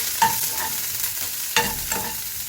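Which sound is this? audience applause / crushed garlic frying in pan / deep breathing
crushed garlic frying in pan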